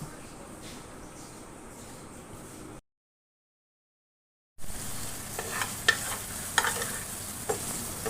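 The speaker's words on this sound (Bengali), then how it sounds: "হলুদ, লবণ এবং অন্যান্য মশলার সাথে চিংড়ি মাছকে আরও প্রায় 2-3 মিনিট ধরে লো ফ্লেমে রেখে" Prawns frying on medium-low flame with turmeric, salt and spices, giving a soft sizzle and occasional stirring clicks, broken by a short silent gap and then a slightly louder stretch.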